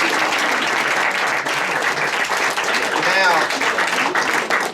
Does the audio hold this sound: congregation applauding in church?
yes